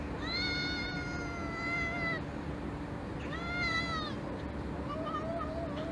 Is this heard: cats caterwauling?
yes